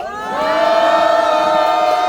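A crowd at an outdoor press conference outside the Seoul Western District Court cheers for supporting lawmakers, rising to a loud sustained shout of many voices over about two seconds.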